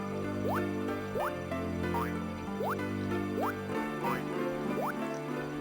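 Watering crops on a farm in a video game brings a series of plinking water drips, about six or seven at a steady rhythm, over continuous background game music.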